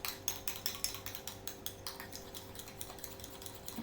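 A homemade deodorant mixture is stirred in a dish with a small tool, giving a quick regular run of light scraping clicks, close but faint against a steady background hum.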